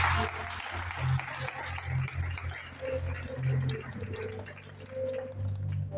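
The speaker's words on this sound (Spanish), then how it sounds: "Denle un fuerte aplauso al Señor." Church congregation applauding during a Spanish-language sermon, a broad steady wash of clapping mixed with crowd murmur and some voices, moderately loud throughout.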